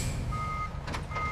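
A truck backing up to a loading dock sounds its reversing alarm, a few evenly spaced electronic beeps rising over a low idling engine rumble close by.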